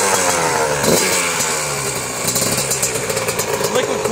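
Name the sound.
Yamaha YZ 85 dirt bike engine idling while warming up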